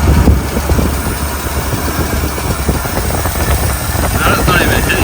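A 1964 Ford Galaxie's 302 V8 runs on choke before it has fully warmed up, giving a steady, loud, close-up low rumble with a constant mechanical drone that holds for the whole stretch.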